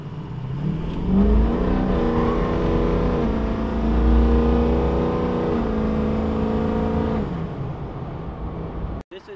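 A turbocharged truck accelerates nearby with a loud droning engine whose tone climbs through gears, held pitches rising and steadying, before the sound cuts off abruptly at the end.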